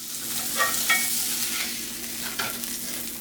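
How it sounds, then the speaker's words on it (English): Food sizzles in a cast iron skillet, a soft, continuous frying hiss with a few brief scrapes and clinks of stirring, fairly quiet and close. "Cook it on the cast iron."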